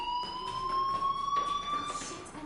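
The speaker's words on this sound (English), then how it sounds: "do you hear that fire alarm? That means you should be outside." A fire alarm in the video game Life is Strange sounds a continuous rising electronic wail with rhythmic pulsing underneath, steady and moderately loud.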